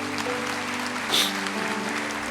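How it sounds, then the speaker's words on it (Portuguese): Church congregation applauding together in a worship service, a dense wash of clapping under sustained keyboard or band chords, steady and moderately loud, swelling briefly midway. "A igreja aplauda ao Senhor,"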